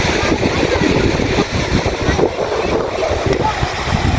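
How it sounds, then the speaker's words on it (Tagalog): Strong wind buffeting at a seashore in Leyte, with surf and waves, a continuous loud roar and rumble filling the whole stretch, close and unbroken. "Nakaka-relax dito sa tabing dagat, napakahangin."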